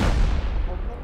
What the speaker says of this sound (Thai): ระวังระเบิด